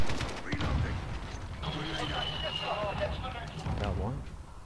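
Repeated gunfire in Call of Duty: Modern Warfare, an AK-74u match on a building-centred map, with rapid cracking shots and mechanical clatter running throughout, some bursts near and others further off, alongside a player talking.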